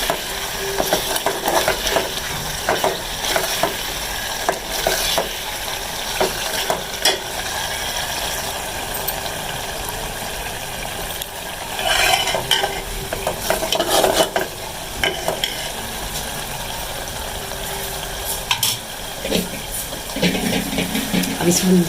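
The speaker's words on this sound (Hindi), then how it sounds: "ये देखिए, मसाला हमारा भुन रहा है।" Spiced masala with tomatoes fries in a pan for a mash dal dish, with a continuous close sizzle and hiss and repeated scraping of the spoon as it is stirred. No one talks over it.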